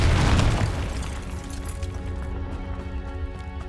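A Confringo explosion spell goes off in Hogwarts Legacy, a loud booming blast with a sharp burst at the start that decays into a rumbling tail over a few seconds.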